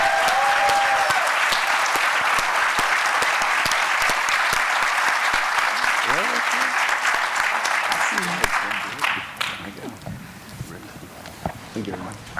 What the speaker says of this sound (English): Can we give our panelists a big round of applause?